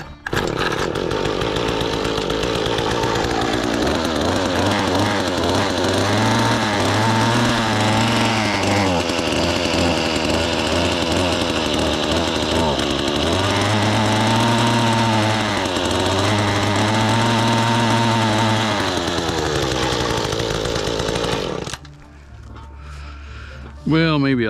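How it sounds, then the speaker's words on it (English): Mantis Echo tiller's small two-stroke engine running loud and close after sitting all winter, revving up and down in repeated swells before cutting off near the end. "So let's see if this baby will fire up."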